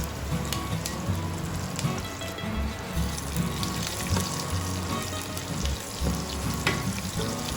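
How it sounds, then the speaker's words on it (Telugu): Tempering spices for tomato rasam fry in a kadai with a continuous sizzle and scattered sharp crackling pops, steady and close throughout. "ఇప్పుడు స్టవ్ మీద కడాయి పెట్టి పోపు దినుసులు వేసి చిటపట అనే వరకు లైట్గా ఫ్రై అవ్వాలి."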